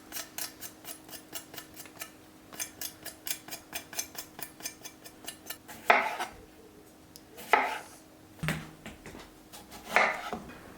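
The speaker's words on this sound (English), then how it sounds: "chop off the ends of each cucumber as well" Small cucumbers having their ends chopped off on a cutting board make a steady run of crisp, closely spaced knife taps, followed by a few louder, separate chops and clatters nearby.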